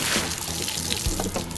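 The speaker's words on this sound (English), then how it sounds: "they sheet off the water really well, as you can see" Water poured over hydrophobic-coated sunglasses lenses, a short close splashing trickle with no talk.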